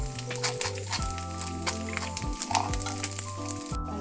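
Cashews and raisins frying in a pan, a soft steady sizzle with light stirring and scraping, heard close alone under a low hum.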